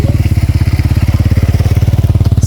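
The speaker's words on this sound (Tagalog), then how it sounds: "Hala, may motor. Bilis dito." A motorcycle engine thumps close and loud in a fast, even rhythm of pulses that holds steady throughout, with no talking.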